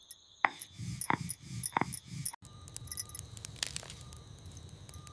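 Pepper, cumin and garlic are crushed on a stone ammi grinding stone: a handful of rhythmic, close grinding strokes, then a steadier stretch of rough stone-on-stone rubbing.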